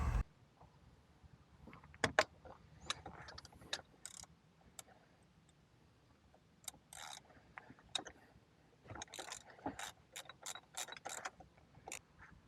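Ratchet removing three bolts from a Honda S2000 shifter, heard as quiet bursts of clicking and metallic handling separated by pauses, close but faint, with no talking.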